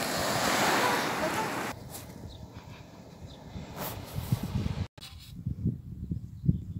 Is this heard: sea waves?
yes